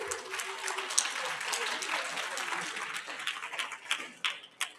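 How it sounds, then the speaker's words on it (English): An audience at a production summit gives a round of applause for a participant, fairly quiet scattered clapping that thins into a few distinct claps toward the end. "let's give a round of applause."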